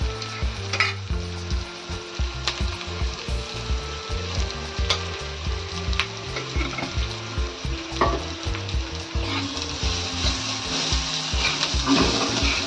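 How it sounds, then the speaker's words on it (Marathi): Chopped onion sizzles steadily in a hot pan for a tomato bhaji, while a spoon stirs and scrapes in a regular rhythm of clinks over the constant frying hiss. "कांदा थोडा चांगला भाजायला द्यायचा."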